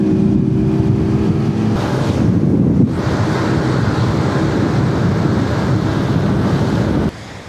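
A small offshore fishing boat engine at full throttle roars under heavy wind buffeting the microphone and rushing water and spray, a loud continuous wash that cuts down sharply near the end.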